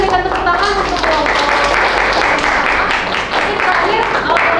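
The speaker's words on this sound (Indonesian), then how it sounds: "berikan tepuk tangan untuk kelompok" A classroom audience claps for a presenting student group after their poster presentation, dense steady applause filling the room, with voices talking over it.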